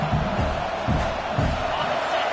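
Packed stadium crowd at a UGA vs Texas college football game, a dense continuous roar of cheering and shouting with rhythmic swells, loud and steady throughout.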